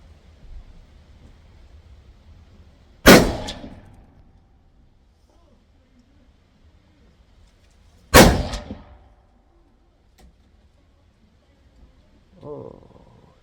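Two loud rifle shots with Remington Core-Lokt ammunition fired at a target, each a sharp crack with a brief echoing tail, several seconds apart, followed by a soft rustle.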